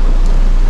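Heavy rain pours in a steady, dense hiss, loud and close, with no talk.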